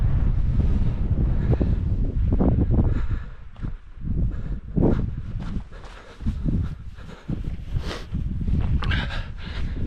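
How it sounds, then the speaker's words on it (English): Gusty wind buffets the microphone on an open hillside during a run. Loud, uneven roaring rushes rise and fall throughout, with brief lulls, and no voices. "Wind's picking up now."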